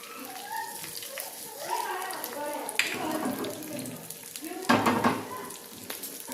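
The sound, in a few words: sesame seeds sprinkled on handvo batter sizzling in pan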